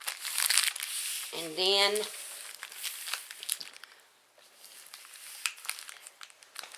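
Paper being folded and creased by hand while preparing bacon for canning, with crinkly rustles in bursts under a brief spoken phrase.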